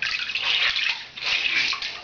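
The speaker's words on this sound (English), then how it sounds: "And all this is plain water, faucet water." Plain tap water from a faucet runs steadily into a sink, a close, bright hissing splash that holds for about a second, dips briefly, then resumes.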